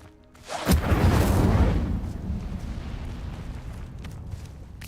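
Incendio fire spell cast in Hogwarts Legacy bursts with a sudden heavy whoosh-boom that swells for about a second, then a roaring flame rush fades away over several seconds.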